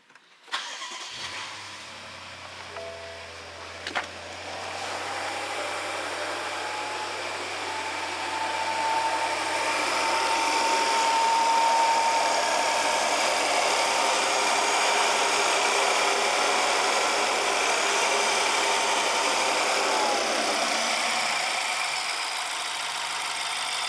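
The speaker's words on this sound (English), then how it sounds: "It seems to start up and idle pretty decent." BMW N63 V8, with a low mass airflow fault, cranks and starts, then settles into a steady idle that holds for about twenty seconds, heard close up with no talking.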